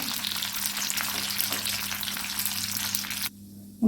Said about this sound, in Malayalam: കടുവ് പൊട്ടിയിട്ടുണ്ട്